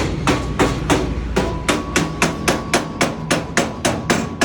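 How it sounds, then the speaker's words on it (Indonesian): A screwdriver head hammers an oven part into its hole while assembling a Bima Mega 8044 gas oven: sharp metallic knocks in a steady series of about twenty, close and loud, with no talk. "Kita pukul sama menggunakan kepala obeng sampai dia masuk lubangnya."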